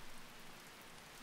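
Acid rain pouring in the video game The Music Machine, a dense, steady hiss of rain on surfaces, loud and continuous throughout.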